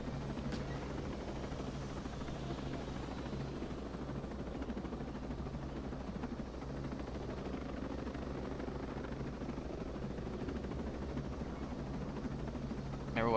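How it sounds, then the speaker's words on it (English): A military helicopter sits running with engine and rotor going, a steady loud droning whir that continues unbroken throughout. "Go ahead and hop in the helicopter."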